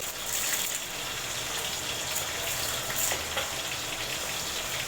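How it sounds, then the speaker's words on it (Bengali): Fish head frying in oil in a home kitchen, probably under a lid, gives a steady broadband sizzle with small pops and crackles throughout, close and fairly loud, with no talking. "মাছের মাথা ভাজতে না আমার প্রচণ্ড ভয় লাগে কারণ এত ফাটে"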